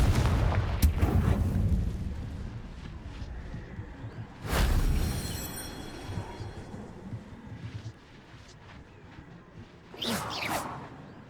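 Confringo fire spell blasts in the Hogwarts Legacy video game, a few loud booming bursts with whooshing tails spaced several seconds apart, separated by low rumbling game ambience.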